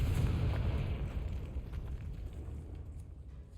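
A Confringo fire spell from Hogwarts Legacy bursting in a rumbling, fiery explosion that hits hard at once and then fades over a few seconds, fairly quiet overall, with no speech.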